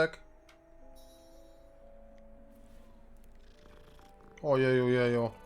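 A cat purrs in Hogwarts Legacy, a close, steady, loud purr rising suddenly near the end after a quiet stretch of soft game music and faint ticking.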